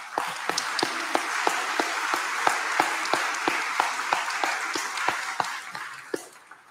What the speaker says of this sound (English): We can give God a round of applause